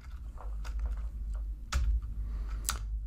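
Java code is typed on a computer keyboard, with scattered light key clicks at an irregular pace, fairly faint over a low hum with no talk.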